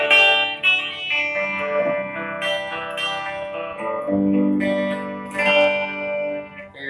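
An acoustic guitar strummed with a metal pick gives clean, crisp chords, several strums ringing out steadily and close by, with no voices.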